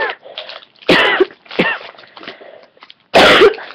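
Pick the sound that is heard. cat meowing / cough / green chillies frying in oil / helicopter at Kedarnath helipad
cough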